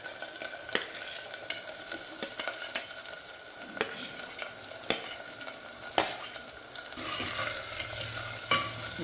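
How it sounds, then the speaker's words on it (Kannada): Masala ingredients fry in a pan for a green masala fish dish, a continuous close sizzle punctuated by repeated sharp spoon scrapes and taps as the mixture is stirred. "ಇಷ್ಟನ್ನು ನೀಟಾಗಿ ಫ್ರೈ ಮಾಡ್ಕೊಳ್ಳೋಣ."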